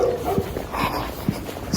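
A dog out in the cold whimpers and gives a few short yips and soft barks, close by, over a noisy outdoor background with no clear speech.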